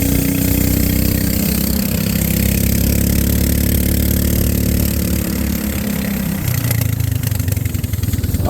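A 420cc Predator engine fitted to a Hyundai golf cart runs loud and close with no muffler, a rough, continuous throbbing drone whose pitch drops and wavers near the end.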